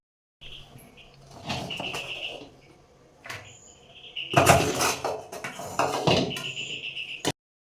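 Cooked, steamed coriander and roasted peanut mixture scraped from a pan onto an oiled plate, giving intermittent metallic scrapes and clinks of utensil on cookware, close and moderately loud, with a few sharp knocks.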